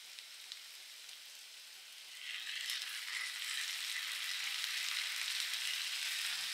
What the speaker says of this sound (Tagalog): niluluto ko po ng konti yung sibuyas